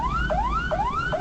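An ambulance siren wails in fast, repeated rising sweeps, three cycles in quick succession, loud and steady with no voices over it.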